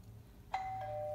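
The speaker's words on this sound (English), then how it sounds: "Oh, doorbell again." A doorbell sounds once indoors, a bright two-tone ding-dong with a lingering ring, moderately close over a quiet low hum.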